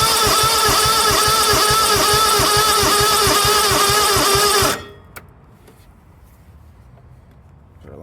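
The engine of a John Deere LX277AWS riding mower cranks over in a loud, rapid, even chugging rhythm for several seconds, then cuts off abruptly, leaving quiet with a faint click.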